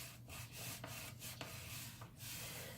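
Paper scored with a Simply Scored scoring tool gives soft, close scraping and rubbing strokes, a few quiet repeated drags with faint taps between them and no talk.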